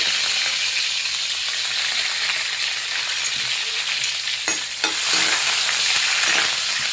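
Mustard seeds, cumin and garlic fry in coconut oil with a loud, dense sizzle that runs steadily and close throughout. Toward the end it is punctuated by a few sharp spatters and stirring scrapes.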